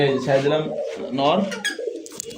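Rasgolla breed pigeons coo in short throaty bursts, close and clear, with someone talking among the birds.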